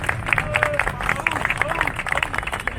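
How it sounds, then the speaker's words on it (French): Clapping and cheering from a crowd applauding firefighters at a public gathering, dense and continuous over a short stretch with voices mixed in. "je voudrais qu'on commence par vous applaudir"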